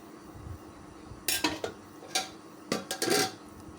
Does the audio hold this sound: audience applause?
no